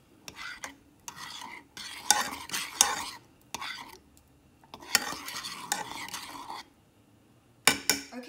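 Soy sauce mixture for a Filipino fish ball sauce is stirred in a bowl, giving bursts of close scraping and swishing with short silent pauses between strokes, no voices.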